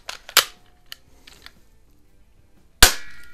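A Healthways Top Score spring piston BB pistol firing two sharp, loud, close shots about two and a half seconds apart, each a crisp snap with a short ring, and small mechanical clicks between them.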